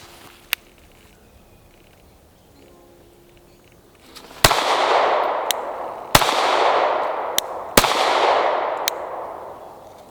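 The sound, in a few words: three shots from a compact handgun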